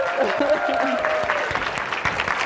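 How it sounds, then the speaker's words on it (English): Live audience applause at a stage event as a woman takes the stage, dense steady clapping and crowd cheers throughout with voices mixed in. "Let's give her a round of applause."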